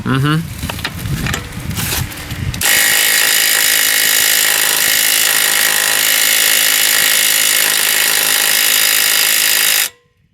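A Kobalt 24-volt cordless impact wrench with a fault spins freely without hammering, giving a loud, continuous high-pitched whine for about seven seconds before cutting off. A brief voice and handling noise come first.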